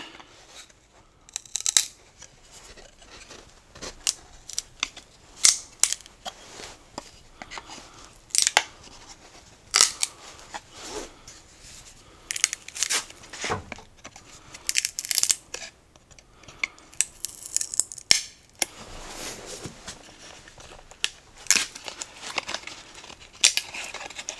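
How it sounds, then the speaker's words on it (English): Chisel prying a router-cut wood inlay patch out of its recess, heard as scattered sharp clicks, scrapes and cracks spread irregularly throughout, close and alone. "we'll get a chisel and we'll pop it out"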